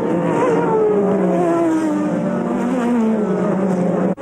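Porsche GT and Nissan race cars in a Le Mans racing video game, a loud, continuous, droning engine roar with slowly wavering pitch, steady and close, with no talk.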